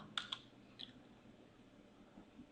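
A few light computer keyboard key presses while entering a measurement in an interior design and architectural drawing program, faint and close, with two quick clicks then a softer one amid quiet room tone.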